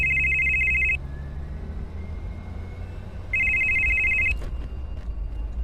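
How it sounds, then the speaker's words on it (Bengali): A telephone rings loudly in two bursts, one at the start and another after a pause of about two seconds, over a steady low hum like a car interior while driving. "ঠিক তখনই দীপ্তর ফোন এলো।"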